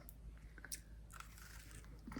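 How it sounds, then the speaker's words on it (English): A crisp bite into a crunchy gluten-free chocolate chip cookie, giving a few close, faint crunches and soft chewing sounds with no talking. "They do have a nice little crunch to them."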